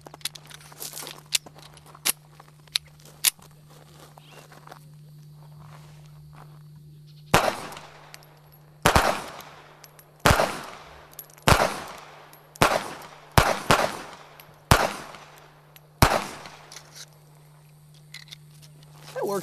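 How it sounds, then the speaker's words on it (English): Sig Sauer P238 pistol fired outdoors, about ten sharp, loud shots at a slow, slightly irregular pace with a low steady hum underneath and faint clicks before the first shot. "Let's try a few shots and see how it feels."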